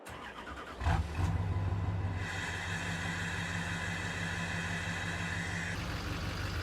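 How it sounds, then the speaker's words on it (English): In Farming Simulator 22, a diesel truck engine cranks and fires, then settles into a steady, loud, close rumbling idle with a throaty exhaust drone and a faint hiss, no voices. "It's got that really good exhaust on the diesel."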